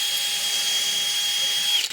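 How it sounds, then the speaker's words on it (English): A power drill bores a dowel hole in wood through a JessEm dowel jig, one steady high motor whine held for nearly two seconds before it cuts off, loud and close. "Just drill it out."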